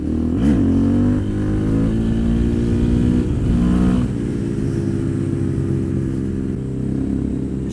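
A KTM supermotard motorcycle revs loudly close by, its engine holding a strong, steady drone with a couple of rising pitch sweeps as the throttle opens.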